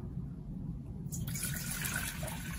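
Tap water running into a pot in a kitchen, a steady broadband rush that starts partway through and continues close and constant to the end, with a low hum beneath.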